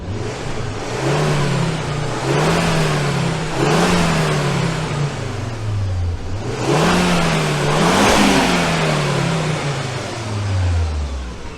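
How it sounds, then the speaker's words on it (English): A Ford S-MAX people carrier with a 2.5T Volvo five-cylinder engine revs on a rolling-road dyno, its loud, close engine note rising and falling through several repeated rev sweeps with a steady roar underneath and no talk. "Is there anything that sounds better than a 5-cylinder engine?"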